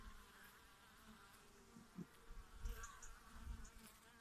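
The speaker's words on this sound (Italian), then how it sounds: "Le api continuano a uscire, a entrare tranquillamente e qualcuna porta anche polline." Honeybees fly in and out of a hive, making a soft, continuous buzzing hum with occasional closer passes rising briefly above the faint background.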